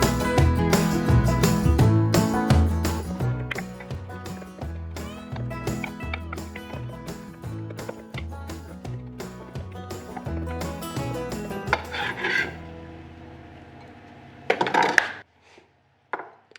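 A knife chops fresh rosemary and flat-leaf parsley on a board in a steady rapid rhythm of crisp close taps, slowing to a few scattered strikes near the end.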